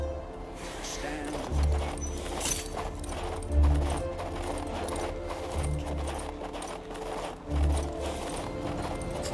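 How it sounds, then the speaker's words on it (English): Horse hooves clip-clop in the King's Bounty II PC game, four heavy rhythmic hoof falls spaced about two seconds apart over ambient game background, with faint voices now and then. "Come on, mount up. I picked out the very bestest horse."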